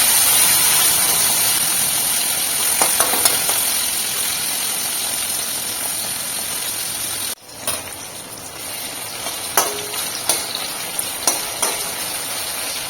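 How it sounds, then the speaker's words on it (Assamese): Tomatoes fry in a pan, giving a loud, steady sizzle close by. Midway the sizzle drops briefly, then continues more softly with a few scraping stirring knocks. "অকণমান দেৰি ভাজি ল'ম বিলাহীখিনি গলি যোৱাকৈ।"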